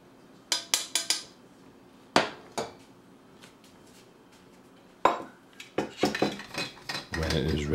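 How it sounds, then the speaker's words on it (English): Chaga tea is strained into a measuring cup, with sharp clinks and clatters of metal and glass coming in irregular bursts and a brief pouring rush near the end. "I strain it into a measuring cup and add it to my thermos."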